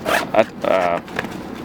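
A zipper on a 5.11 Tactical Rush 72 backpack is drawn in a few short, raspy pulls close by, alongside someone talking.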